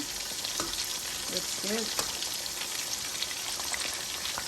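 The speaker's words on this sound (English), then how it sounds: "they're frying up real nice" Lumpia frying in a pan of oil, a steady dense sizzle running throughout with brief stirring clatter; a voice speaks briefly over it.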